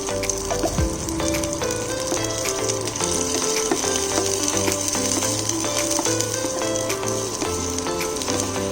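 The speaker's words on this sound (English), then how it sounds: "We need to fry this for a half minute, so that once the color start changes and aroma comes" Freshly chopped ginger and garlic fry in a pan with a steady, close sizzle, scattered with clicks and light tapping throughout.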